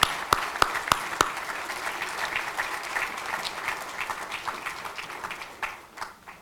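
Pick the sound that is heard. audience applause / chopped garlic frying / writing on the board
audience applause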